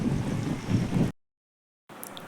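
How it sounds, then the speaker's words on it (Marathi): Strong wind blows outside a building in Mumbai, loud gusty rumbling buffeting the microphone before cutting out to silence, then returning more faintly at the end. "इकडे खूप मस्त वारा सुटलेला आहे"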